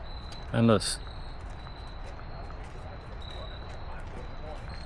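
Cicadas drone in a thin, steady high-pitched buzz throughout, faint and distant, briefly interrupted early by a short louder burst of voice or birdsong, in Columbia, South Carolina.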